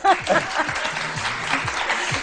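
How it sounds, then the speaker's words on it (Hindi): A studio audience on a Pakistani morning show claps in a brief burst, with a speaking voice running underneath the applause. "तालियां बजा दें जरा"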